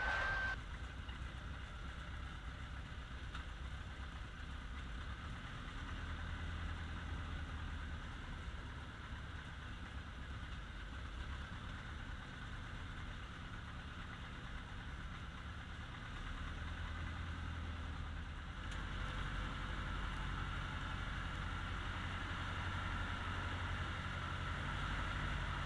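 Steady low engine idle of a Piper PA-18 Super Cub light aircraft drones throughout, a constant rumble with no other sounds standing out.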